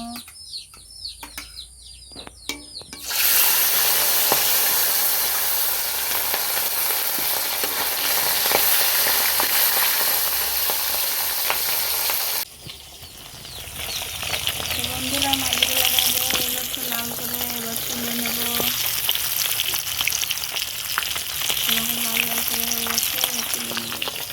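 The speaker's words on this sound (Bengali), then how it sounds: "এবার মাছগুলো দিয়ে দেবো ভাজার জন্য" Rohu fish fries loudly in hot oil with a steady, dense sizzle that drops briefly midway and then returns with crackling and spitting.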